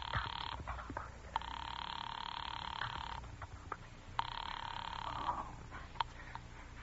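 An old telephone line rings as a call goes through to the operator: two long, buzzing ring bursts separated by a pause, heard faintly through the receiver over a low hum, with no voices.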